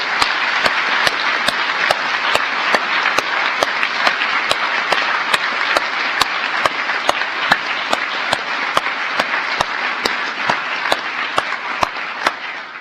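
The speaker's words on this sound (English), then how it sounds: "let us give her a heartfelt round of applause" Sustained audience applause at an awards ceremony honoring international women of courage, a dense steady wash of clapping lasting the whole stretch with no voices over it.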